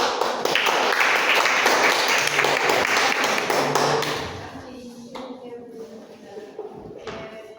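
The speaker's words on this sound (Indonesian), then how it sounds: "Baik, beri tepuk tangan." Classroom applause in an economics lesson on non-cash payments, a few seconds of loud clustered clapping that tapers off, leaving quiet room noise and soft speech.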